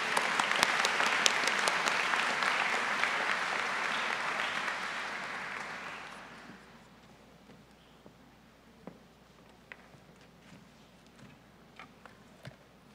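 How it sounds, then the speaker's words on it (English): Audience applause at a college commencement ceremony, a dense sustained wash of clapping that fades out after about six seconds, leaving a few scattered claps and room noise. "let's give both of them another round of applause"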